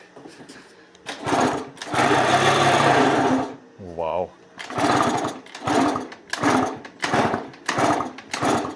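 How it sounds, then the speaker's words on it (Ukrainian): A scooter engine with worn bearings and little compression is cranked repeatedly as someone tries to start it after freeing a seized motor. Loud, rattling bursts are separated by short pauses, and a voice briefly exclaims. "Хоче запускатися, але підшипники чути вже і походу немає компресії"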